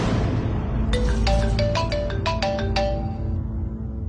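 A phone ringtone plays a bright, repeating melodic pattern of short electronic tones, loud and close over a low background hum, then fades out near the end.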